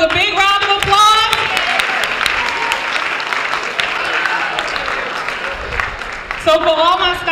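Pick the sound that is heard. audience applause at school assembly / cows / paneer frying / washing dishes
audience applause at school assembly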